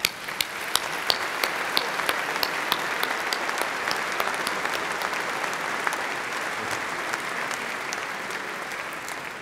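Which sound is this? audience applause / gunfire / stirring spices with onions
audience applause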